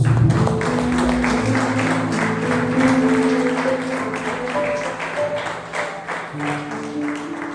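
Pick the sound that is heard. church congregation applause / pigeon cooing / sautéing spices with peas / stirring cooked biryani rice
church congregation applause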